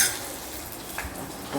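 Mutton sizzles and crackles in a hot pan with salt, turmeric and curry masala powder, with a brief scrape of stirring partway through.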